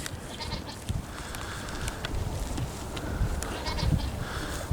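Goats on a farm bleat repeatedly near a feeding trough, with several overlapping calls at close to moderate distance over steady barnyard background noise.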